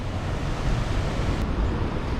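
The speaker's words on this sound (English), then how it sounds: "I can hear water running. There's a weir ahead." Steady broadband rush of water pouring over a river weir on the Vilaine in Brittany, continuous and fairly loud with no pauses, no voices over it.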